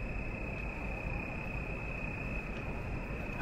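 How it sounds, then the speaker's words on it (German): Loud crickets chirp all around a hedge beside an abandoned railway line, a dense, unbroken high-pitched trill that fills the air steadily from start to finish, with no voices over it. "Es ist ein extrem lauter Grillensound um mich herum"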